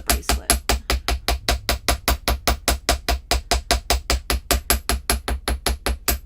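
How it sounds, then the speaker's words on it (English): Steady rapid hammering on a wire bangle bracelet laid flat, a long even series of close, sharp metallic strikes about four per second, loud and alone. "I'm going to hammer with the bracelet laying down"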